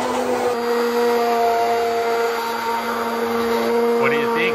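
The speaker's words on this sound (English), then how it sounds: "Blend it to the soup." A blender whirs steadily at close range, blending tomato and basil soup in one continuous loud drone with a steady pitch and no pauses.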